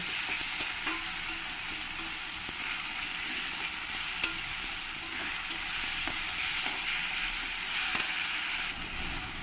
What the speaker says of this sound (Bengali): এই পেস্টটাই দিয়ে দেব আমি দেড় চামচ দিয়ে দেব দিয়ে আমি কিছুক্ষণ এর সঙ্গে পেঁয়াজ আর টমেটোর সঙ্গে কষিয়ে নেব